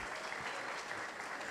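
A church congregation claps together in a steady, continuous wash of applause heard from a modest distance at low volume.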